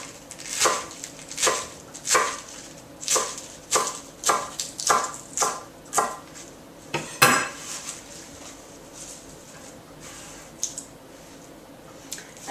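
A knife shredding young tender spinach on a board, a steady series of crisp chopping cuts at an even rhythm, close and clear, tapering into quieter scattered taps.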